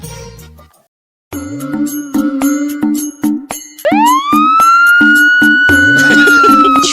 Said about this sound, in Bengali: আমার তো মনে হচ্ছে এটা পুলিশের গাড়ির শব্দ